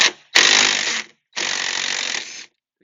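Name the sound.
removing a bolt from Jeep Wrangler JL back glass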